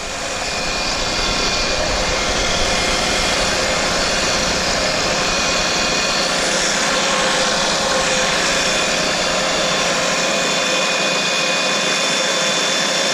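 A machine spindle running at about 2,000 RPM, a loud constant broadband whir with no gaps, dropping slightly in its low end near the end, with no talk.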